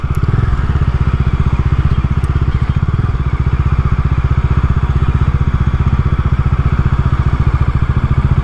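A Bajaj Dominar 250 motorcycle engine runs steadily near the microphone at a roadside toll-plaza stop, its even single-cylinder thumping pulse continuing without break and no talk over it.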